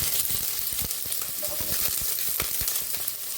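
Chopped green chilli and carrot sizzle steadily in a hot pan for pasta, with crackling fries and occasional stirring clicks.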